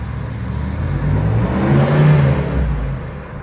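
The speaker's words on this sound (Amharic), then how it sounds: "በጣም ግሬስ ያለው መኪና ነው። ቀጥ ብሎ ነው የሚሄደው እንደዚህ። ድምጹንም እንደምትሰሙት ነው።" A Chevrolet Blazer engine runs steadily at close range, swelling in a mild rev through the middle before settling back to an even idle hum, with no talk over it.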